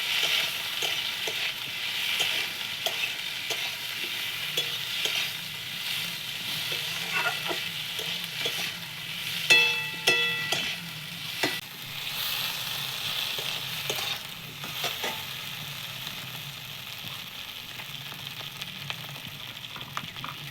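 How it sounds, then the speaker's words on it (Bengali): Ginger frying in a pan for a raw-banana kofta curry gives a steady, close sizzle throughout, with a few faint clicks of stirring and no talk. "আদাটা দিয়ে একটু ভেজে নিয়ে"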